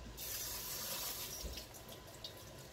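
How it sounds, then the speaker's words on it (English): Tap water runs in a steady hiss over sauerkraut being rinsed in a strainer, a soft continuous splashing flow heard close and alone. "So I give it a quick rinse."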